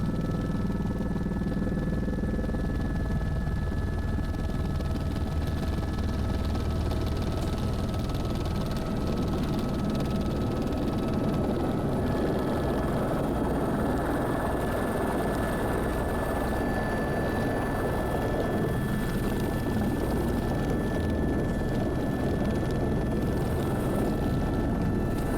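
A helicopter engine hums and whines at a Las Vegas helipad, a loud steady drone with a sustained high tonal whine that holds throughout at close range, with no talk.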